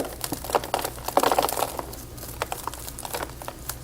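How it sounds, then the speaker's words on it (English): A root rake scratches and breaks up bonsai soil around a tropical bonsai's roots, making close, irregular gritty crinkles and crunches in short clusters, with no talk. "This rack will allow you to break the soil without breaking main root system."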